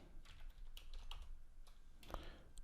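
Arduino code being typed on a computer keyboard, a short run of faint, close key clicks with a couple of sharper taps, no talking.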